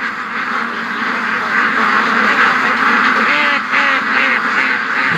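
Several ducks kept for charity quack in a continuous, loud chorus close by, their overlapping nasal calls filling the whole stretch.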